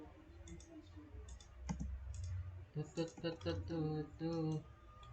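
Computer keyboard keys clicking quietly in short bursts while AutoCAD fillet commands are entered, alongside someone speaking nearby.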